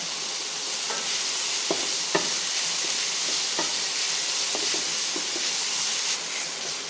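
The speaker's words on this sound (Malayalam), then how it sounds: "മത്തങ്ങയ്ക്ക് അധികം വേവില്ല, 2 മിനിറ്റ് നന്നായിട്ട് വഴറ്റിയെടുക്കാൻ മതിയാവും" Pumpkin for mathanga kichadi sautéed in a pan, a steady hissing sizzle with a few sparse spatula clicks and scrapes, no voices.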